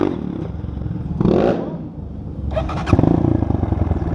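A motorcycle engine idles and revs nearby on an off-road trail, rising in bursts with a rough, pulsing rumble.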